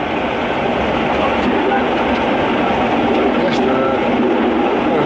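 A miniature railway locomotive on the Ruislip Lido Railway, running smoothly with a continuous, loud, even rumble of rolling wheels and engine heard from on board, without any breaks.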